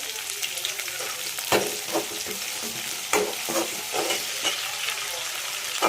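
Curry leaves and green chillies sauté in a pan with a continuous close sizzle, broken by repeated scraping strokes of a spoon stirring.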